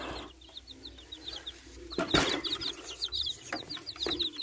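Chicks and chickens let out into a yard give repeated high peeping and clucking calls, with a few louder thumps or wing flaps among them, nearby and moderately loud.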